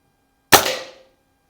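A single sharp, fairly quiet shot from a vintage Anschutz 335 spring air rifle, a crisp crack with a short ringing decay, heard alone with near silence around it.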